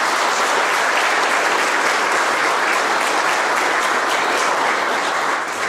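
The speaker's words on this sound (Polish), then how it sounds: "Mi się wydaje, że brawa dla tego." Sustained applause from a large audience at a scholarship award gala held in a county government hall in Olsztyn, steady and dense for the whole span without a break.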